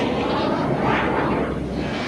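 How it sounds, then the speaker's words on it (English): Fighter jets launching from aircraft carriers make a loud, continuous jet-engine roar that swells and holds steady close by, with no voices. "Aboard the 3 American aircraft carriers in the area, 144 fighter jets take to the air."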